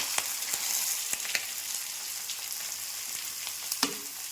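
Chopped onions and green chillies frying in hot oil with mustard seeds and cumin for egg pulusu, a steady close sizzle with a few soft clicks of stirring.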